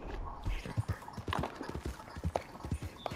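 Horse hooves clip-clop steadily in Red Dead Redemption 2, a rhythmic run of close, moderately loud hoofbeats with no talking over them.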